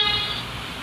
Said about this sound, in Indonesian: No, klakson satu kayak gini.